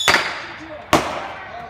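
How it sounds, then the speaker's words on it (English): Two sharp distant bangs of fireworks, about a second apart, each followed by a brief echoing tail. "The fireworks coming from over there."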